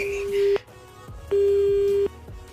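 Telephone busy tone after the other caller hangs up on a radio prank call: two clear steady beeps, separated by a short gap, heard close and alone.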